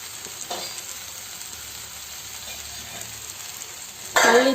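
Spices sizzle steadily in hot oil for a South Indian garlic curry (poondu kuzhambu), a continuous close frying hiss, with a louder burst of sizzling in the final half-second as more is stirred in.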